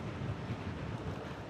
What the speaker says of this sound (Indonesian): Ini cukup berangin juga sekarang ini.